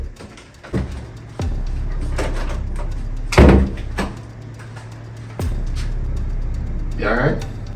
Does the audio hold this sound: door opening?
yes